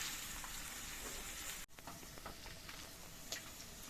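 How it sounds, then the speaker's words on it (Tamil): Onions and green chillies sauté in a pan for mutton liver fry, a faint, steady sizzle with one brief scrape or clatter partway through. "பாருங்க, வெங்காயம் வதங்கி வந்துருச்சா?"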